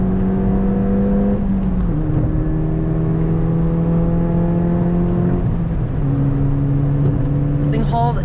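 Hard acceleration in a turbocharged hot hatch from inside the cabin: a loud engine drone climbs in pitch through long pulls, broken by gear changes, with a voice heard briefly along the way.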